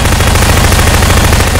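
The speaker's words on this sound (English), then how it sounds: "I hear gunshots, but I do not see you." Rapid gunfire from a video game during a Prop Hunt match, loud and continuous bursts filling the whole moment with no voices over it.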